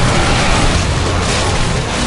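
A deadly fire cauldron trap in the game Orcs Must Die 2 goes off with a loud, dense roaring burst, a broad rushing blast that fills the moment and stays sustained and close throughout.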